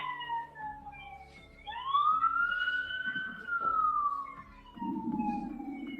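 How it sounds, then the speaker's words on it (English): An emergency vehicle siren wails in a rising and falling sweep as it approaches through traffic, loud and clear, with a low vehicle rumble beneath and a brief burst of broadband noise near the end. "I can hear the sirens now."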